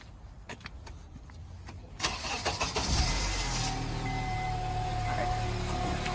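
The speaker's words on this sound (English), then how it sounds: "we're going to start the car" A car engine being started during a battery and alternator check: quiet clicks and rustling, then the engine cranks and catches around two seconds in, settling into a loud, steady idle close by.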